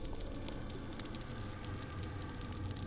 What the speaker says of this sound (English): even the sounds of the tiny plankton creatures add up to a respectable crackling noise.